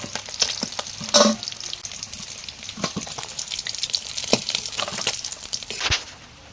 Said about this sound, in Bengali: এরপর এই ছোট মাছগুলো রয়েছে, এটাকে ভাজা হবে